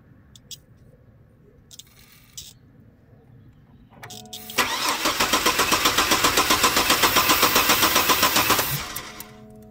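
A Chevrolet S10 engine with a fuel delivery fault cranks without starting: a loud, rapid rhythmic churning of the starter for about four seconds, after a few quiet clicks and handling noises, then it stops.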